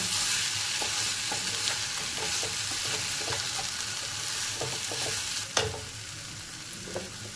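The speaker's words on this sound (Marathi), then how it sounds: "भाजी परतून घेतली" Spring onion greens for a dry vegetable dish stir-fried in a pan, with a steady close sizzle and repeated scraping strokes of the spatula, including one sharper clack near the end.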